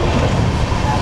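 Kalka Mail passenger train running from Howrah toward Rajgir, a continuous loud rumble and rattle filling the carriage, with a voice faintly present.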